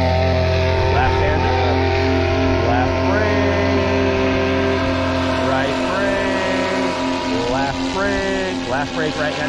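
A paramotor engine runs at full throttle during ground training, a loud, close, steady roar with rising and falling pitch, while an instructor's voice calls out directions over it.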